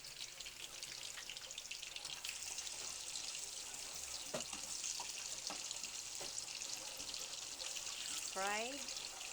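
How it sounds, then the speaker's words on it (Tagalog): Sweet potato fries with sugar in hot oil for Kamote Q, giving a soft, continuous sizzle and bubbling heard at a moderate distance, with a few faint clinks and a brief rising tone near the end. "Ayan, fried sweet potato na with sugar."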